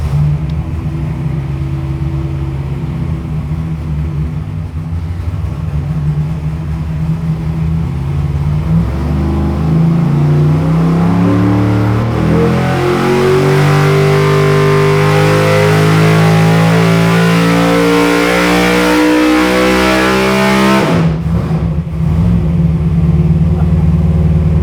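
An 800-horsepower NASCAR racing engine in a 1955 Chevy idles with a heavy rumble, then climbs in one long rising rev before cutting off abruptly and settling back to a loud idle, close and unbroken by speech.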